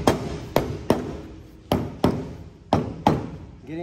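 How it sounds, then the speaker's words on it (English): Sharp, close taps set new vinyl-covered pontoon deck trim into place, seven distinct knocks in an uneven rhythm, each ringing briefly before the next, with no talk. "Once I get in position, I can get the whole thing on by tapping gently"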